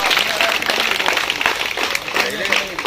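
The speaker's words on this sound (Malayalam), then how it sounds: "ഒന്ന് കൈയടിക്കണ." Children who earned A+ grades are applauded at a river swimming club gathering by the Aluva kadavu: steady, dense clapping from a nearby group mixed with crowd voices for the whole stretch.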